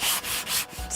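A wooden surfboard is sanded by hand in quick back-and-forth strokes, a close, rhythmic, raspy rubbing that repeats several times within a second.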